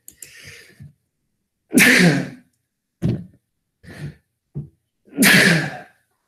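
Several sneezes from one person, each a sharp, loud burst with short quiet gaps between them. A breathy intake and a sigh come before them.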